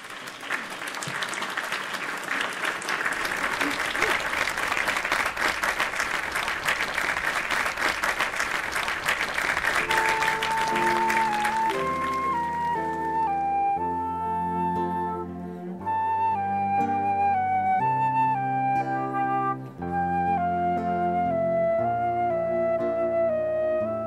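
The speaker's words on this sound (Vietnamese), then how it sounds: "Rất mong quý vị hãy đón chào một tràng pháo tay thật là ngọt ngào và nồng nhiệt cho nam ca sĩ" An audience at a live concert gives a male singer warm, sustained applause, a dense roar of clapping that lasts about half the time before a band's music swells in and takes over.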